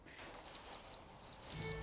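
An electronic diamond tester beeps as it is pressed to gem stones set in gold jewellery, giving six short, sharp, evenly spaced high-pitched beeps, close and clear, over a quiet background.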